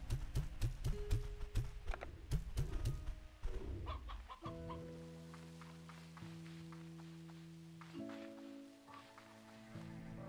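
Stony hens in the farming game Slime Rancher 2, a rapid series of close clucking calls at the start, followed by tapping and a sustained chiming game tone with some ambient clatter.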